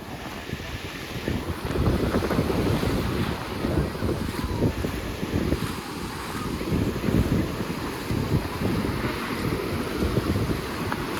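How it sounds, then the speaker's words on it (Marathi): Steady wash of sea waves at Dapoli with strong wind buffeting the microphone throughout, a continuous broad roar with no voices. "बघा लाटा"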